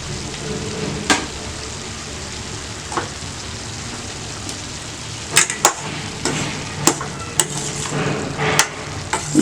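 Poriyal tossed and stirred in a pan with salt and a ground paste, heard as scattered sharp spoon scrapes and clacks over a continuous frying hiss.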